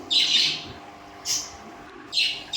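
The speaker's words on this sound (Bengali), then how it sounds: "পাখিগুলো সকালে বাইরে বের করে দিয়েছি শুনতেই পেলে কী কিচিরমিচির করে আওয়াজ করছে" Bright, high chirps from pet birds let outside in the morning, in a few separate bursts, fairly close, over a quiet background hum.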